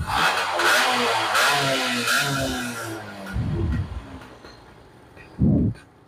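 A Yamaha F1ZR motorcycle engine fires up and runs with a steady mid-pitched buzz and several throttle blips, loud and close, ending with a short burst after a lull.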